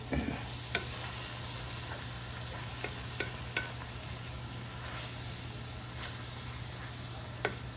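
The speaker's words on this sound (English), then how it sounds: "we are just cooking this down till the onions are translucent and we get rid of some of this water" Onions and mushrooms cook over medium heat in a pan with crushed red pepper, giving a steady, soft sizzle with occasional faint scrapes of stirring.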